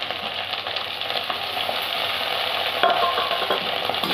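Grated ginger and garlic paste fries with onions in a pan, a close steady sizzle under brisk stirring scrapes, with no talk.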